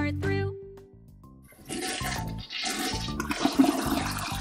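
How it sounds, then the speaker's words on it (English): A toilet flushes loudly, a gushing rush of water that swells and churns for a few seconds, following a brief stretch of music. "It's time to flush."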